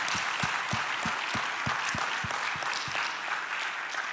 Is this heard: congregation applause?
yes